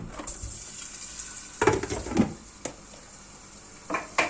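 Minced meat sizzling in a hot frying pan for moussaka, with a steady fry hiss and several scraping stirs and clinks of utensil against pan, close and fairly loud.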